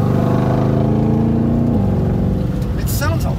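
A 2020 Ford Mustang Shelby GT500 Track Pack engine rumbles and revs with deep throaty harmonics, the pitch shifting as it idles and climbs, with a voice near the end.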